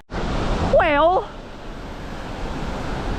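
A waterfall on the Miller River, reached on a hike, roars in a loud, continuous rush close by, with a short warbling vocal sound early on.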